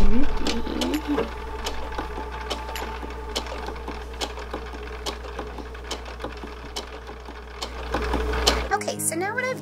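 A sewing machine stitches dress fabric with a fast, steady mechanical whir and a hum underneath, close by, stopping near the end with a brief voice after it.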